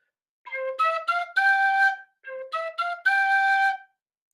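A bright tin whistle plays a short phrase of When the Saints Go Marching In, the same phrase of quick notes heard twice with a brief pause between, clear and up close.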